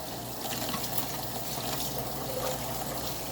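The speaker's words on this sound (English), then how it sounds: "Just going to rinse my hands off here" Tap water runs steadily into a sink as hands are rinsed in a home kitchen, a soft continuous splashing hiss at moderate level with no talking.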